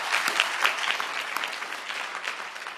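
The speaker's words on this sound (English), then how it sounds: "So give them a round of applause." An audience at a queer comics conference welcome address gives a steady round of applause for the event's funders, moderately loud and continuous throughout, with no talking over it.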